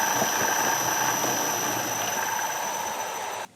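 A large asynchronous motor runs at about 1900 rpm, giving a steady droning hum with high whining tones that holds evenly before cutting off abruptly near the end.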